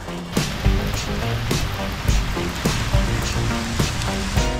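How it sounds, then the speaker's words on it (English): Small hail pellets and sleet fall around a travel RV, making a steady pattering hiss punctuated by scattered sharper hits, with no talking. "there's a little hailstorm going on here."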